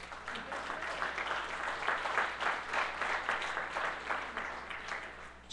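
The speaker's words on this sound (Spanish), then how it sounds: "Desen otro aplauso ahora, pero más fuerte," Church congregation applauding during a Sunday service, a steady wash of many hands clapping that swells in waves and continues throughout, moderately loud with no talk over it.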